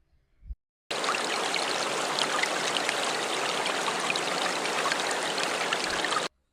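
A river stream on a camping farm flows in a steady, broadband rush that begins abruptly and runs evenly for several seconds before cutting off. Only a faint thump is heard before it starts.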